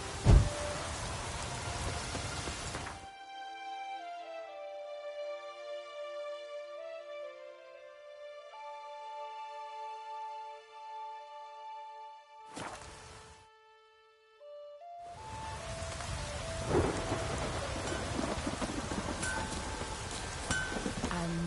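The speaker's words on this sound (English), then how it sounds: "It's raining." Steady rain hisses loudly in The Witcher 3: Wild Hunt, breaking off into a calm stretch of soft melodic tones, then the downpour returns with a faint rumble of thunder underneath.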